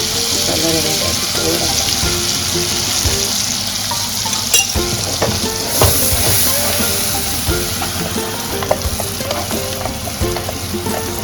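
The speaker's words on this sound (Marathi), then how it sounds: "मसाला म्हणजे चांगला भाजायला लागेल याला, म्हणजे कसं तेल सुटतं" Masala paste with green chillies fries in hot oil for a Maharashtrian prawn curry, giving a loud, constant sizzle and hiss with repeated stirring scrapes and clinks close by.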